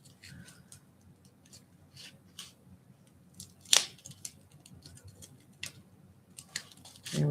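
Scissors snip through the seam of a paper mache lamp, a few faint, quiet cuts and crunches spaced out over a low background hush, close and soft, with no speech.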